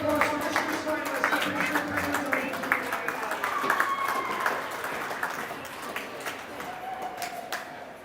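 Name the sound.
applause for the finalists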